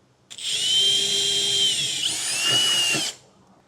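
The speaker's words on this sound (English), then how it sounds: "I'm going to start out by drilling a small pilot hole." A power drill whines steadily at high pitch for about three seconds while drilling a small pilot hole in metal on a 2024 Chevrolet, dipping briefly midway as it bites, close and loud.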